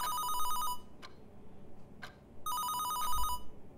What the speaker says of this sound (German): Das Telefon läutete